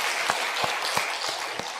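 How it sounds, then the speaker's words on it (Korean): Steady applause from a church congregation during a Sunday worship service, a dense, even wash of clapping with a few stronger claps standing out, filling the whole stretch with no talk. "하나님 앞에 영광의 박수 돌리겠습니다."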